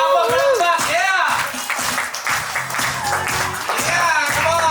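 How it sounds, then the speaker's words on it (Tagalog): Hands clap at a birthday party for a girl turning 18, scattered rhythmic claps mixed under excited voices and talking throughout, fairly close and loud. "Palakpak ako! Palakpak!"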